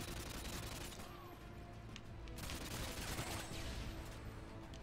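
Sustained automatic AK rifle fire in the video game Modern Warfare 2, a dense, continuous stream of shots with no clear pauses, loud and close throughout.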